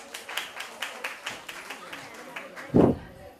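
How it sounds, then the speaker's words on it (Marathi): An audience claps at a Vishwakarma honour ceremony, a string of evenly spaced, modest handclaps ending with one louder thump, under faint talk. "जोरदार टाळ्या एकदा वाजवा."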